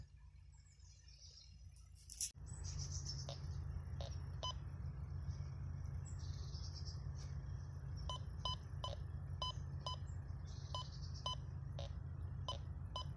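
Short, repeated electronic beeps and warbling tones from a metal detector, sounding in irregular bursts over a steady low hum, fairly faint.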